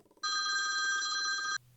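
An incoming phone call rings through a HiDock H1 docking station connected to a phone over Bluetooth: a loud, steady electronic ring tone held for over a second, then cut off abruptly, with no talking.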